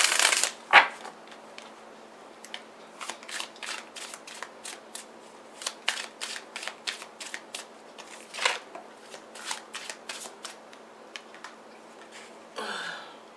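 Tarot cards are shuffled by hand in a quiet room, giving repeated soft riffling and flicking bursts in an irregular rhythm, with a sharper slap near the start and a brief rustle at the end.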